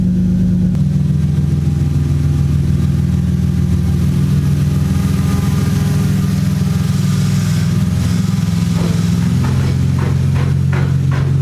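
A Lexus GS300 engine runs steadily, a deep continuous mid-range drone close by at a constant level, with brief fluctuations and a few short clicks and rattles near the end.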